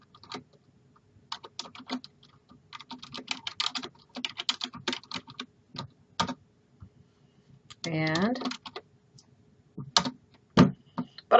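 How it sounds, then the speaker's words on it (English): Rapid bursts of typing on a computer keyboard, close and crisp, in uneven runs with short pauses, broken once by a brief tonal sound partway through. "here I'm going to type"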